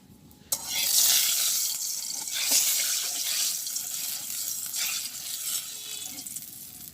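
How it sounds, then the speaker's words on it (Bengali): Oil hitting a hot wok before frying fish: a sudden crack, then a broad sizzling hiss that swells and ebbs over several seconds, close and fairly loud, with no speech. "কড়াই গরম হয়ে গেছে আমি এখন তেল দিয়ে দিতেছি মাছ ভাজি করার জন্য"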